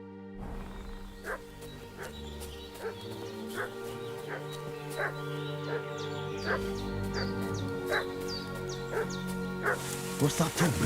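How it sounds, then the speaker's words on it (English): A dog in Kingdom Come Deliverance II barks repeatedly in a steady rhythm at moderate distance, over a music bed, with crows cawing and a voice speaking during the barking. "What's that dog making such a fuss about?"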